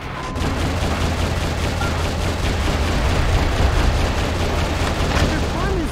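Loud, continuous gunfire in Metal Wolf Chaos XD as airborne troops are shot down, a dense, unbroken barrage of rapid shots and booms lasting throughout.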